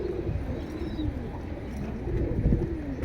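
Low, soft pigeon coos repeat over a steady background hum, close by and continuous throughout.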